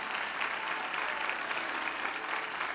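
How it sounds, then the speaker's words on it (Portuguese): A church congregation applauding, a continuous wash of many hands clapping together, even and sustained at moderate volume with no break. "Aplauda ao Senhor, em nome de Jesus."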